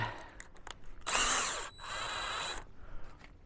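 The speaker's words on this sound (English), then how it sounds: "gonna pre-drill these holes, get one installed" A power drill with a 3/16-inch bit whirs in two loud bursts, spinning up and biting into a metal garage roll-up door, with quieter clicks and handling sounds before and after.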